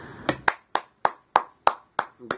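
A single pair of hands claps about eight times in a steady, even rhythm, close and crisp, as a round of applause for Bayley retaining the NXT Women's Championship.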